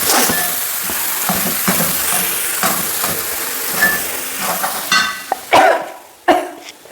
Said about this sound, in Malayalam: അപ്പോൾ നമുക്കിതിനെ എല്ലാത്തിനെയും കൂടി ഒന്ന് മിക്സ് ചെയ്ത് കൊടുക്കും